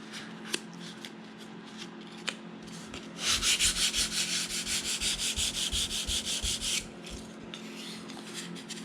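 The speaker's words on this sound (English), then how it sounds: "Flat sand with 400 grit." A block of 400 grit sandpaper flat-sands cured UV curable grain filler on wood, a close, rhythmic run of rasping back-and-forth strokes lasting a few seconds, with quieter handling sounds before and after.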